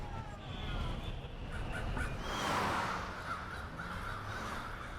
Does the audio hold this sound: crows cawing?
yes